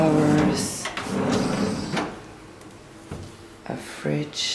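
Kitchen drawers in a studio apartment slide open and shut several times, giving a few sharp wooden knocks and scrapes at fairly close range.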